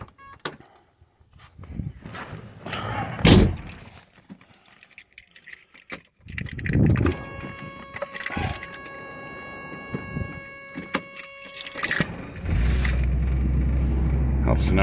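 A 1990 Jaguar XJS Convertible: keys jangle, then the starter cranks and the engine catches and settles into a steady low idle near the microphone, with a person speaking briefly.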